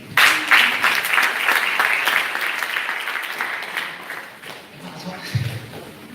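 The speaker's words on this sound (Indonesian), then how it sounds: "Kita beri aplaus sekali untuk Pak Seti ya" An audience applauds Pak Seti at a water purifier product training in Yogyakarta. Dense, sustained clapping from a nearby crowd fades out over several seconds, and a voice is heard talking near the end.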